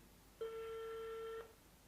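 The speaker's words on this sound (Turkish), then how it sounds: "Bu seferki arkadaşımız telefonu açmadı." A single telephone ringback tone for an unanswered call sounds as one steady, faint, flat beep lasting about a second, with quiet line noise before and after.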